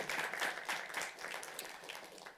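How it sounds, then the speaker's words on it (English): Applause from an audience after a presentation at a session on infectious diseases in high-risk communities, a fairly quiet, continuous patter of clapping that slowly thins out. "Let's give him a round of applause."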